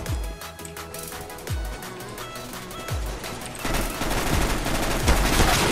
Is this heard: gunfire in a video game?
yes